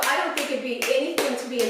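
Fry bread dough slapped and clapped between hands, four or five evenly spaced sharp pats at close range over a steady background of talking.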